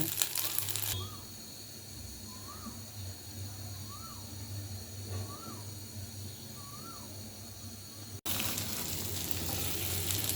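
Pitha rice cakes frying in a pan, a steady low sizzle that continues throughout, with crow calls repeating in the distance and a sudden jump in loudness near the end.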